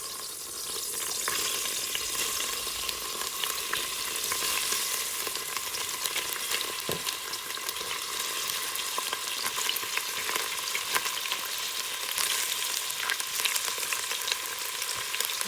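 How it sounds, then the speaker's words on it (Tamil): Onions fry steadily in hot ghee and oil for a chicken biryani, a dense, continuous sizzle with occasional stirring scrapes, close and loud with no talking. "வெங்காயத்தை நல்லா பொரித்து எடுப்போம்"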